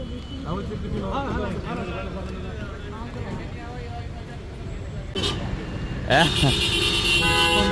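Car horns honk repeatedly in a traffic jam at a used car market in Qatar, over a steady road hum while people talk close by.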